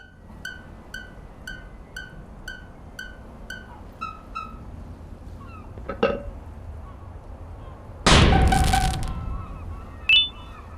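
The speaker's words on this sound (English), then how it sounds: "I'm able to start this minigame with these cannons and firecrackers" Bright electronic tones from a cannons-and-firecrackers minigame in Garten of Banban 2 chime in a steady rising sequence, followed by a sharp pop and a loud burst of crackling noise, then another short bang.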